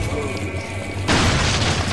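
An incendiary grenade explodes in Resident Evil 4, a sudden loud boom breaking over a steady low game hum and swelling into a broad, roaring blast that fills the rest of the moment.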